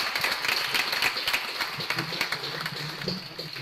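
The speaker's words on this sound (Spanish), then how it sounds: "Pues un aplauso a los científicos" Applause for scientists at an agrotech startup forum rises as a fairly faint, even wash of many hands clapping, with no speech over it.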